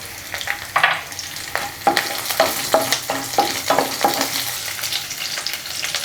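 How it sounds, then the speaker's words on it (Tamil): Finely chopped garlic and green chili sauté in a pan for potato masala, a loud close sizzle broken by a run of rhythmic spatula taps and scrapes. "போட்டுட்டு லேசாக இதை வதக்கலாம்."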